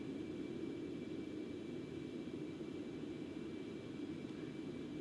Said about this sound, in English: airplane's starting to settle down a bit